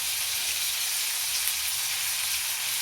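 Masala brinjal sautéing in a pan, a dense, even, loud sizzle of hot oil held steady with hardly any variation, close up and without voices.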